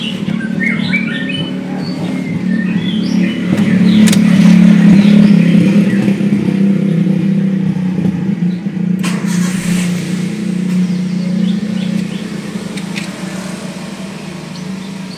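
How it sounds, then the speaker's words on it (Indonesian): A car engine suspected of overheating is started and runs with a steady low hum that swells briefly in a mild rev partway through, then settles, while birds chirp and squawk over it with no talk. "Di sini kita akan coba nyalakan dulu mesinnya."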